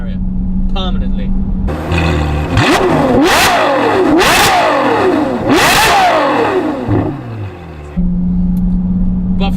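A Novitec N-Largo Ferrari F12 revs hard, its engine climbing and dropping in three or four loud, screaming sweeps up close, with a steady idle hum before and after. A voice talks under the noise.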